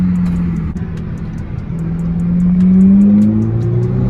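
Loud, continuous exhaust drone from a 2014 Honda Civic two-door with a muffler delete, holding a low rumble that rises slightly in pitch as it revs, close by with no talking.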